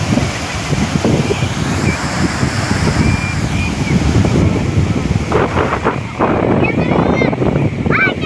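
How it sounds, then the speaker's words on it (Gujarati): Strong, rain-swollen water rushes steadily at the Bileshwar temple lake, a loud, continuous roar with wind buffeting the microphone and a voice briefly heard toward the end. "પાણીનો પ્રવાહ વરસાદના કારણે જબરદસ્ત આવી રહ્યો છે"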